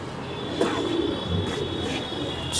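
Madrazi breeder pigeons coo softly in a loft, low burbling calls over a steady background hum with a thin high whine and a few faint chirps.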